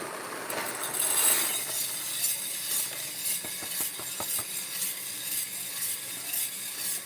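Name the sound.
coffee roaster roasting coffee beans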